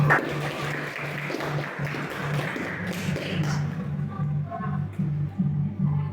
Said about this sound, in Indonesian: Oke, tepuk tangan buat Priscilla.